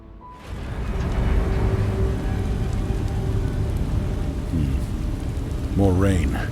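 Steady rain pours down in the video game Beast of Reincarnation, a dense hiss of falling water, and a voice speaks over it near the end.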